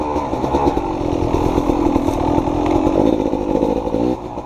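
A Beta dirt bike engine revs loud and steady while riding a technical trail section, throttle surging and easing before dropping off near the end.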